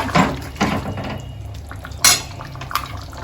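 A spoon stirs cauliflower and potato curry with ghee in a pan, giving a few close, sharp clinks and scrapes against the metal, spaced irregularly, with quiet wet mixing sounds between them.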